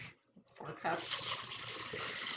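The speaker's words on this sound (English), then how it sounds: "So that means I'm going to need 4 cups of water." Water pouring from a tap into a container of soaked almonds for homemade almond milk, a steady close splashing rush running almost the whole time after a brief quiet start.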